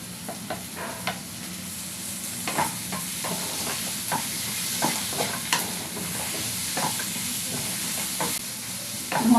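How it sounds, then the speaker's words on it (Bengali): Spice masala with chopped tomatoes is stir-fried for a chicken gizzard and liver dish, a continuous sizzle broken by regular scraping strokes of a spatula across the pan, close and even-paced. "মশলাটা কিন্তু ভালো করে কষিয়ে নিতে হবে"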